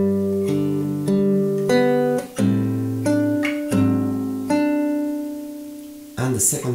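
Fingerstyle acoustic guitar playing the first ending of a song, a series of plucked chords and bass notes ringing out in steady succession, close and clear, closing with a brief scrape of fingers on strings.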